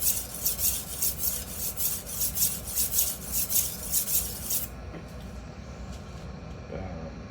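Rhythmic rasping strokes of a knife drawn across an inexpensive 1k grit whetstone, about a dozen even passes close by, then stopping and leaving faint low background hum.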